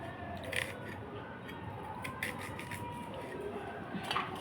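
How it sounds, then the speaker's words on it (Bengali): Scissors cutting in a home kitchen, faint repeated snips over a low background hiss. "কেটে নিই।"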